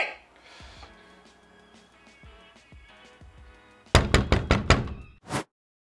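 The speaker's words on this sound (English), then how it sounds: "Somebody is knocking." Knocking on a door: a fast series of about five loud, close raps in quick succession, then one more knock after a short pause, following a stretch of quiet room tone.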